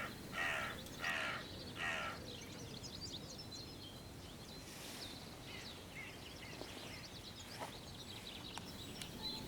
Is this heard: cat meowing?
no